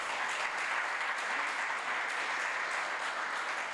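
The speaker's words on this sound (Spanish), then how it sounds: "Vamos a darle un aplauso a nuestros padres, a nuestras madres," An audience claps for parents at a Venezuelan gathering. The applause is a steady, even, fairly distant wash of many hands, unbroken for the whole stretch.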